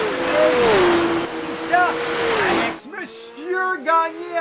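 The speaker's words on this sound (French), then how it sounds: "Baissez le son des autos, s'il vous plaît" Race car engines rev and shift in a Porsche Cup sim racing game at Spa, rising and falling whines under someone speaking, then several shorter revving bursts once the talk drops away.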